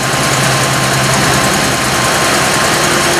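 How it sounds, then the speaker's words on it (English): A 1984 Cadillac Eldorado Biarritz engine idling after a cold start on a freezing morning, a loud, steady, close rumble with a constant low hum throughout. "Cold start for the morning."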